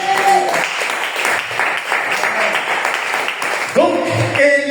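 Church congregation clapping to acclaim Jesus, a steady patter of applause running beneath ongoing voices, moderately loud and sustained across the moment.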